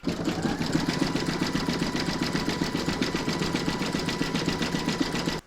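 A home embroidery machine stitches an in-the-hoop snowman's hat area, a steady, fast mechanical chatter of needle strokes running evenly and close up before stopping abruptly at the end.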